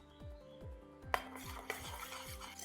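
Spoon stirring a teaspoon of vinegar and two tablespoons of oyster sauce in a dish for a zero-oil chicken recipe, giving a steady rhythm of close scraping strokes with two sharper clinks against the bowl.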